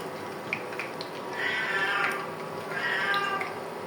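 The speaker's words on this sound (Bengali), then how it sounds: "আমার বিড়ালে ডাকে কিভাবে দেখেন, ম্যাও ম্যাও" A domestic cat meowing twice in drawn-out, plaintive calls close by, each lasting about a second, over a steady background hum with a few faint clicks.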